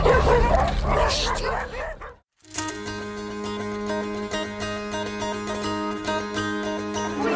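Dogs on a trip through South America yip and bark excitedly at close range in the first couple of seconds, then fall away under a tonal, music-like background.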